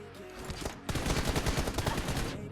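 Gunfire in PUBG Mobile: a short burst, a brief pause, then a long rapid stream of automatic shots, loud and close with faint talk underneath.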